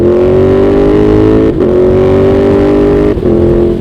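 A KTM Super Duke 1290 motorcycle with a large 1300 cc V-twin and a new stage 1 exhaust revs loudly and close, pitch climbing through two long pulls with brief drops at each gear change.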